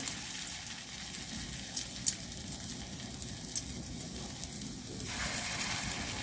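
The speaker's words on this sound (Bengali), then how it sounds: "তো তেল গরম হয়ে গেছে পেঁয়াজও দিয়ে দিলাম" Onions frying in hot oil while cooking outdoors: a steady, close, crackling sizzle that holds throughout and grows slightly fuller near the end, with no talking.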